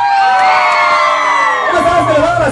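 A live crowd at an outdoor norteño band concert yells and cheers loudly, long sustained shouts and whoops swelling together, with a few voices standing out near the end.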